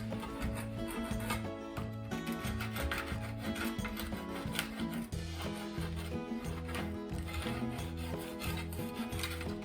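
A utensil scrapes loosened food along the edges of a grill pan in steady, rhythmic rasping strokes, close and quiet, with a steady hum underneath.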